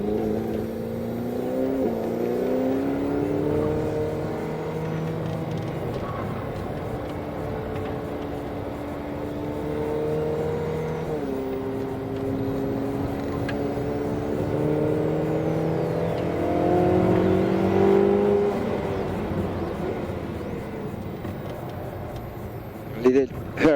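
A Ferrari race car on a driving circuit, its engine droning loudly and steadily as the revs climb and fall through the gears over about twenty seconds, with an instructor's voice coaching over the noise.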